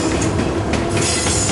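A subway train in Call of Duty rumbles past at close range, loud and continuous, with rail noise and squealing wheels filling the whole moment.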